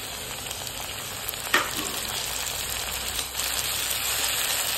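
Chopped tomato hits browned, reddish onion in a pan, giving a steady broadband sizzle throughout with a sharp burst as it goes in and a softer shift near the end, close and moderately loud with no talking.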